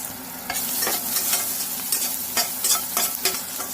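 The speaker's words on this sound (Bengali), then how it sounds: "রসুনটা একটু লাল করে ভেজে নেব, সুন্দর একটা ফ্লেভার।" Garlic, curry leaves and green chillies frying in ghee, a close, busy sizzle with repeated spatula strokes scraping through the pan.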